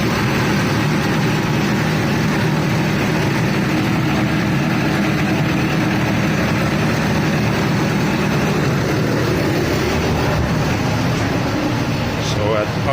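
A Skoda 15Tr trolleybus idles with its exciter running at 24 volts and main voltage at 250, giving a steady, close, broadband hum and whir that holds level throughout with no change in pitch.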